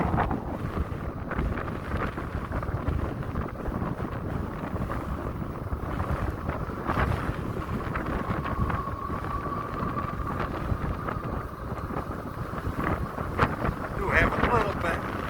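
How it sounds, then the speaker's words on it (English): Strong wind buffets the microphone in a continuous rushing roar, with a faint voice and passing engine noise underneath. "it's pretty windy out today"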